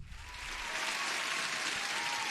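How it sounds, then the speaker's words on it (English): A short burst of dense applause sound effect played on a live trading stream, swelling quickly and holding steady at a moderate level for about two seconds, with no talk over it. "Huge applause."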